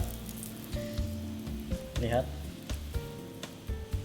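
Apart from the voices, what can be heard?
hot cooking oil sizzling in a pan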